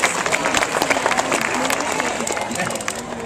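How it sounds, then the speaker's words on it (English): A crowd at a 2013 Renaissance Festival bird show in Huntersville, North Carolina applauds a pair of black vultures. The clapping is dense and steady for about three seconds, with some voices mixed in. "You can give them a round of applause."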